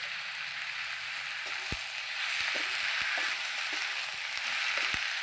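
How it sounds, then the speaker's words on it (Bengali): Radish frying in a pan with salt and turmeric, cooked outdoors in winter sun, a steady loud sizzle with a few sharp scrape and stir knocks as the pieces are turned. "এইভাবে নেড়ে চেড়ে মূলো ভাজাটা আমি করে নেব।"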